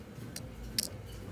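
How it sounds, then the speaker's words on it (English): Two quick light snips or clicks of toy scissors at the LEGO Hotel, a short gap between them, close by, over a quiet room. "here are the scissors"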